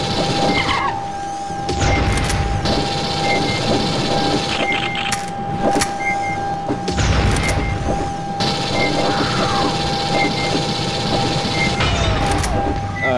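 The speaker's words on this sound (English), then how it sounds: "Handgun." A handgun fires repeatedly in Aliens vs Predator 2000: sharp, loud shots at irregular intervals over a constant mechanical hum and tonal game ambience.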